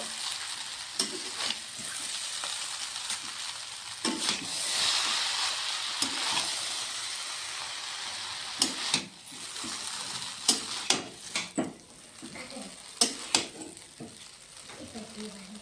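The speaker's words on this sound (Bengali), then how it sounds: "এখন ভালো করে চাউমিনের সঙ্গে মিশিয়ে নেব।" Vegetable chow mein stirred and fried in a pan, with a continuous sizzle under repeated scraping and tapping of a utensil that grows sharper toward the end, heard close with no talking.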